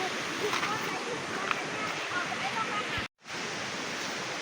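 Flowing water of a forest stream, a loud steady broadband rush close by, briefly cut to silence partway through before resuming.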